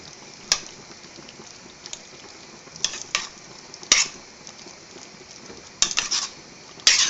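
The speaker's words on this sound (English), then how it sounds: "we need to stir it in because it's going to melt all through it" Grated cheese is stirred into a simmering tuna mornay sauce in a pot, with soft wet stirring under a low background and several sharp clinks of the utensil against the pan rim.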